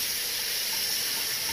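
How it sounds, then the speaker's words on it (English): Hot water streams from a tap, a steady close hiss and splash lasting a brief moment with no voices. "Heat up the blade with some hot water to go."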